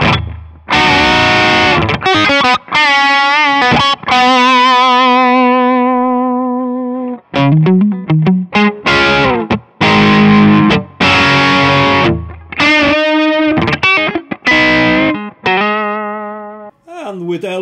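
Electric guitar played through a Fulltone OCD overdrive pedal captured as a Kemper amp profile, with the full OC setting engaged: saturated distorted chords and riffs with sustained ringing notes, stopping and restarting in bursts, loud and close with no talking.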